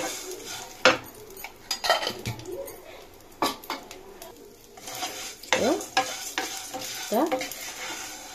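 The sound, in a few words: vermicelli being stirred and roasted in ghee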